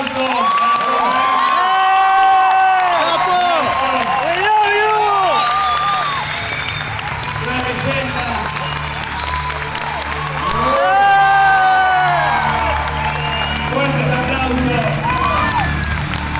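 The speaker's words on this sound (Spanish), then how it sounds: "Un fuerte aplauso." An audience breaks into strong applause and cheering at an event in Argentina, two loud swells of clapping and shouts with a lull between, and an announcer's voice talks over the crowd.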